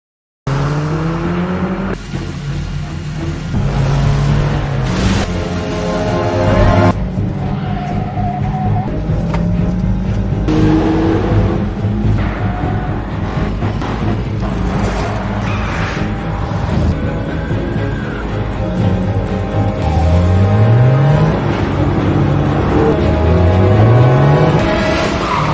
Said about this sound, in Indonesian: Kemudian Lino memaju mobilnya dan berhasil membuat mobil Julia menabrak.